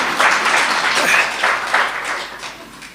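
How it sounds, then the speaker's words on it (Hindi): Men in a spiritual gathering's audience clap for the mothers present, a short burst of applause in uneven waves that swells and fades, moderately close. "चलो भाई लोग ताली बजा दो माताओं के लिए।"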